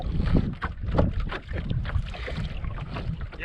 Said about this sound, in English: So the wind has picked up considerably